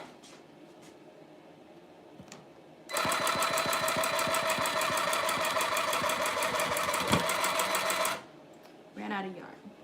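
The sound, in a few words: tufting gun punching yarn into rug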